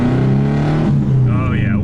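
A tuned Subaru with big power mods accelerates at part throttle on the street, its steady, droning engine note heard close from inside the car and running continuously throughout.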